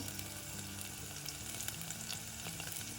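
Garlic and lentils sizzle steadily in hot oil for a gongura dal tempering, a dense crackling fry at close range with no voices.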